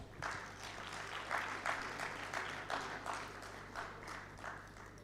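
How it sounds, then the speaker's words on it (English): Audience at a law conclave applauds a guest of honour, a justice receiving a bouquet and memento. Soft, steady clapping comes in rhythmic swells over a low hum, with no talk on top. "Can we have a round of applause, please?"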